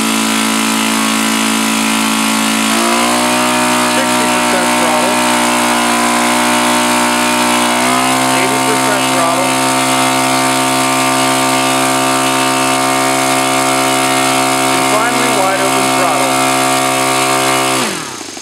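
O.S. FS-95V four-stroke model aircraft engine with an APC 15x8 propeller on a test stand, running at a loud steady drone that steps up in throttle several times, alone with no talk.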